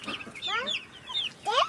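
Chickens cluck on a farm where little chicks are hatching, a few short close calls in quick bursts with brief gaps between them.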